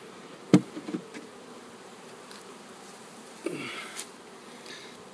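Honey bees buzz as a steady low hum during a hive removal with a bee vacuum, punctuated by a few knocks and thumps as the bees are shaken off into a box; close by, no talking.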